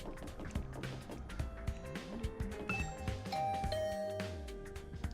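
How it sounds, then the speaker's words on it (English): A chiming doorbell rings out over soft, layered music in the video game Hundred Line: Last Defense Academy, with no one speaking. "Ring the doorbell to Tsubasa's room."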